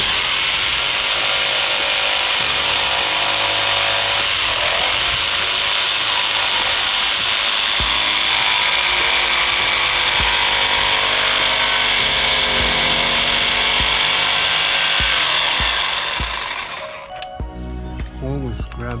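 A jigsaw cuts through crown molding with a loud, continuous high-pitched buzzing whine, close by, that runs almost the whole time and winds down at the end.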